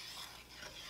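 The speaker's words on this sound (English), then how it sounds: "we're going to go ahead and stir that up" Stirring a pan of food seasoned with black pepper, a soft continuous scraping and light sizzle filling a single close second with no pauses.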